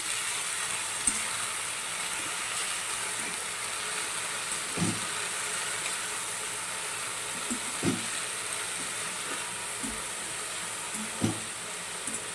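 Amaranth leaf curry (tandalja bhaji) sizzling in a pan under a steady frying hiss, broken now and then by soft scraping as a spoon stirs it, with no talk.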